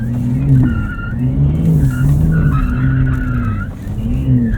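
A 2023 Porsche 911 Turbo S driven hard on a track at a Porsche Experience Center, its engine note steady and loud while tires squeal continuously through linked corners under braking.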